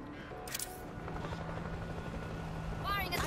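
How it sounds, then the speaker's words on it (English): A helicopter in the video game World War Z throbs with a steady rotor drone under a character's speech, alongside a few sharp in-game effects. "I see a second helicopter"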